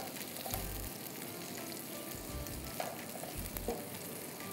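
Onions fry in a pan for chicken pulao with a steady, faint sizzle and crackle, broken by a few soft stirring sounds.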